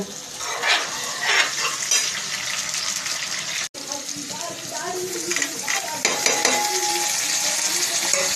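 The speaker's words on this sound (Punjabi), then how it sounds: "ਹੁਣ ਪਾਵਾਂਗੇ ਆਪਾਂ ਸ਼ਿਮਲਾ ਮਿਰਚ" Capsicum stir-fried in a pan with onions and green chillies for chilli paneer tikka, a loud, continuous hissing sizzle with scraping stirring bursts and one brief dropout partway through.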